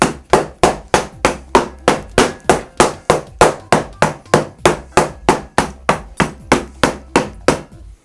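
Ice crushed in a Lewis bag with a mallet, around twenty sharp regular whacks in a fast steady rhythm, loud and close, with no talk.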